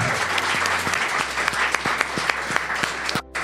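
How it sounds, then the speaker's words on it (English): Dense applause from a lecture audience at an annual university event, steady broadband clapping filling the whole stretch before cutting off abruptly near the end. "And give a round of applause."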